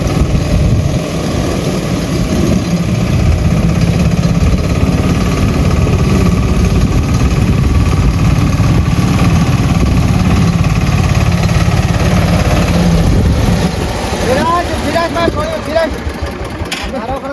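A loud tractor engine chugs and rumbles steadily close by, fading down near the end as people talk over it.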